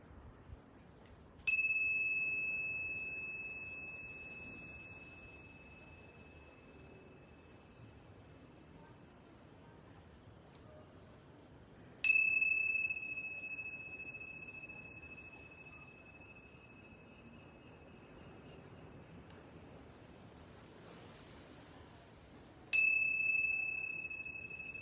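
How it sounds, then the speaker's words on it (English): Yoga bells are struck three times at wide intervals, each strike ringing out with a clear metallic tone that fades slowly into near silence before the next. "I'm going to ring these yoga bells 3 times"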